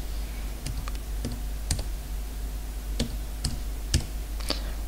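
Keys clack on a computer keyboard as an authorization code is entered, a sparse, irregular run of sharp, close clicks spaced over several seconds above a steady low hum.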